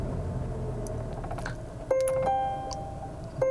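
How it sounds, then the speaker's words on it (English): A short electronic chime rings out twice inside a 2019 Volvo XC40 T5 as the engine is started by push button, two clear tones a moment apart over a low cabin hum, with one more beginning at the very end. "And you can see it has that typical Volvo chime."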